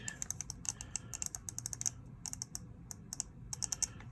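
Rapid clicking of the face buttons on a Razer Raion fightpad controller, sharp close-up taps in quick irregular bursts over a low background hum.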